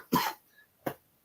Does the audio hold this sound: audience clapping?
no